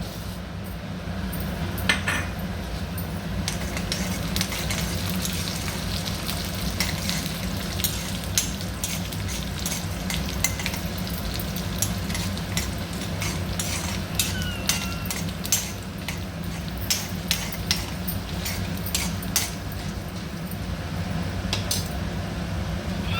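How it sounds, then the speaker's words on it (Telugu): Chana dal roasting dry in a frying pan for coconut chutney, a steady soft crackle and rustle with frequent clicks and scrapes of a spoon against the pan, continuous and close. "కొబ్బరి పచ్చడి కొరకు ఒక మూకుడు పెట్టి శనగపప్పు వేయించుకోవాలి"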